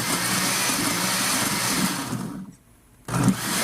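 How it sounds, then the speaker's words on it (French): A kitchen blender whirs as it mixes orange and mango for hibiscus juice, a loud steady churning roar that stops briefly and then starts up again. "nous allons passer au mixeur pour mixer les autres ingrédients tels que l'orange et la mangue"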